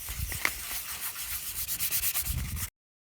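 Cured super glue layer on a leather steering wheel being gently sanded by hand, a steady rubbing scrape in short rhythmic strokes, close and fairly loud, ending abruptly.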